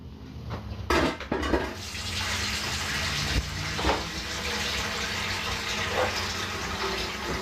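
Liquid from a chicken dinner being prepared is poured into a steel bowl, a continuous splashing, trickling pour heard up close with a few clanks near the start and no talk.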